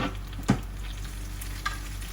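Bok choy sizzles steadily in hot oil in a wok, a constant close frying hiss with a couple of faint clinks or stirring taps.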